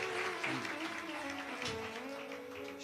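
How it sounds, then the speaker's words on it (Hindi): Audience at a Shiv Mahapuran katha clapping together, a dense continuous patter of many hands held at a steady level, with faint tonal sound underneath. "एक बार जोरदार ताली बजाकर साधु।"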